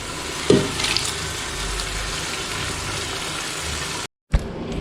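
Onions dropped into hot oil for a Kannur-style prawn biryani sizzle steadily in the pan, a sharp burst at the start settling into an even frying hiss, with a brief dropout and a clatter near the end.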